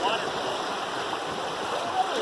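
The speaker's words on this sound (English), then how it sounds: "There are some small rapids on the Blue Earth, just something to be aware of." Small rapids on the Blue Earth River rush past a kayak in a brief, steady wash of water, with a faint voice in the background.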